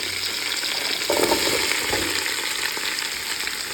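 Chopped onions and small shallots fry with curry leaves in a pan for a fish roast, producing a steady close sizzle with a brief swell of stirring in the middle and no voices.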